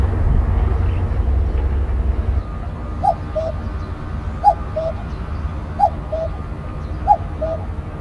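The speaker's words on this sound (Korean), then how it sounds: "여름 철새 뻐꾸기도 마을을 찾았다." Common cuckoo calling in a rural village in summer, a repeated two-note call sounding four times at a steady pace from a moderate distance over a low background rumble.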